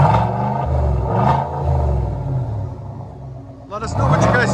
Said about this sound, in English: Let us know what you guys think of the sound of the BORLA S-type.